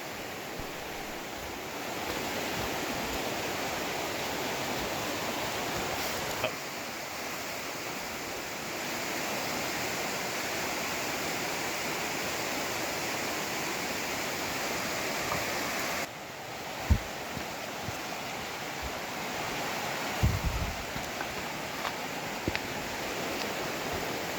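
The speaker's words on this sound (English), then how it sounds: "River looks a little on the high side" A river running high at an Algonquin Park portage produces a steady, loud rush of flowing water that continues unbroken, with a few faint knocks nearby.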